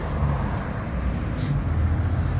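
Steady roar of nearby motorway traffic, a continuous low rumble of passing vehicles with no pauses.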